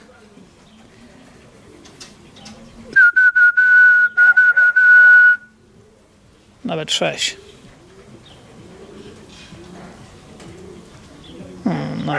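A long, steady whistled tone sounds for a couple of seconds, followed by soft pigeon cooing and calls, with someone speaking intermittently.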